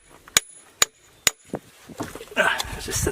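A hammer strikes an anvil floating in a pool of mercury three times, sharp ringing clanks about half a second apart, then softer knocks and muffled clatter with a voice speaking near the end.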